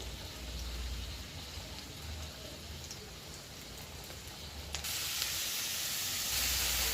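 Tomatoes dropped into a hot frying pan, giving a soft continuous hiss that rises in level and brightness partway through, steady and close with no talking.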